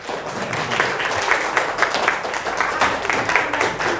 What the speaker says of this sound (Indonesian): Oke, tepuk tangan untuk temanmu.